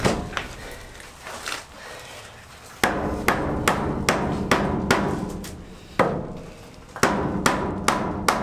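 Sharp mallet blows strike an old horse trailer wall, sparse at first then a rapid run of loud, close knocks with brief pauses between strikes.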